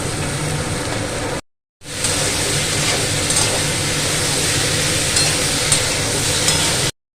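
Potatoes frying in a pan with turmeric and salt for a Bengali posto dish, a steady loud sizzle with scraping stirring, briefly cut to silence early on, with no talking.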